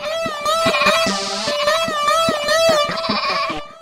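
A goat bleats repeatedly and loudly, with wavering calls following one another closely and no break in the bleating throughout.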